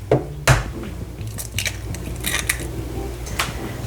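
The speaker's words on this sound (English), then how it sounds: "we need to beat 1 egg with a tablespoon of water to make an egg wash" One egg is beaten with a tablespoon of water in a small bowl to make an egg wash, with a few sharp cracks and taps, then soft, irregular clicking of a small whisk against the bowl.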